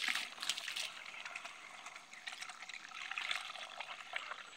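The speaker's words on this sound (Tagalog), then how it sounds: "Malakas po ang hose ko dito. Yan ang tubig." Water sprays from a garden hose on a farm in Mindanao in a soft, continuous hiss with slight fluttering surges, fairly quiet and with no voices.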